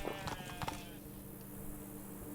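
Roach, the horse in The Witcher 3 video game, trots with quick, rhythmic clip-clop hoofbeats, close and fairly loud, over a steady game background that fades after about a second.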